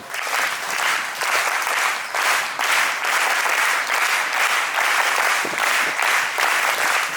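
A seated audience at a spiritual camp gives three rounds of clapping, each a loud dense burst of many hands, separated by brief dips, close and continuous with no talk.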